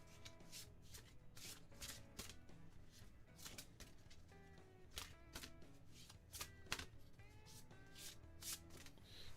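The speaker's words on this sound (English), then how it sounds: "give it a shuffle." A deck of cards for the Warhammer Quest: Darkwater board game is shuffled up close, with quiet, rapid riffling and rustling in uneven bursts throughout.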